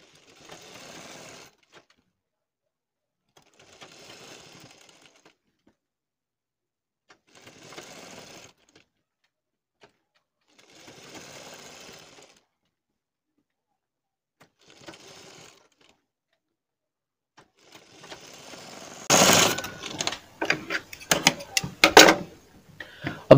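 A sewing machine runs basting stitches along a garment neckline in several short, soft bursts separated by pauses, followed by louder, closer clattering and knocking near the end.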